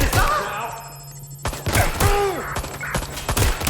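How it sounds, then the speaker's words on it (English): Scattered gunshots from the video game Watch Dogs Legion, several sharp bursts popping at irregular intervals over a low background hum, moderately loud and fairly close. "Gunfire over right."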